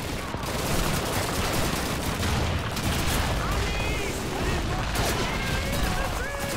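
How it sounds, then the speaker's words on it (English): Call of Duty 2 combat fills the scene with constant rapid gunfire and booming blasts from grenades, a loud, unbroken barrage that runs close throughout with speech mixed underneath. "Grenades all over the place."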